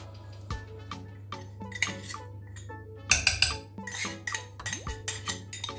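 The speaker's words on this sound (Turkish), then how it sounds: "Peynir ve yoğurdu iyice karıştıralım." Spoon scraping and clinking against a bowl while strained yogurt is mixed into mashed cheese for haydari, in irregular close knocks over a steady low hum, with no talk.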